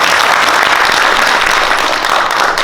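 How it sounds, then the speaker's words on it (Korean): Audience at a Seoul parliamentary forum on revising the local autonomy law breaks into loud, sustained applause, with steady dense clapping throughout and no speech. "뜨거운 박수."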